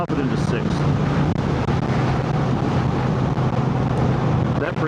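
A motorcycle cruises at 70 mph in sixth gear at about 3,000 RPM, producing a loud, constant engine drone mixed with heavy wind rush, with no break throughout.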